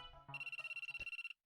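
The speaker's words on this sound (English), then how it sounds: "My phone's ringing." A phone ringtone from the visual novel game Aokana plays, a short bright electronic trill of rapid repeated pulses lasting about a second, preceded by a brief soft chime, clear and alone.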